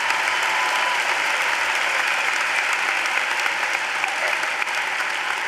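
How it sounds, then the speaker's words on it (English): Sustained, loud applause from a large audience fills a high school commencement ceremony, a dense wash of clapping that holds steady throughout without pause. "Let's all give a huge round of applause for our teachers"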